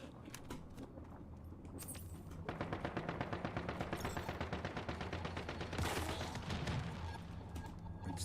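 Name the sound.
automated turret firing, from the video game Once Human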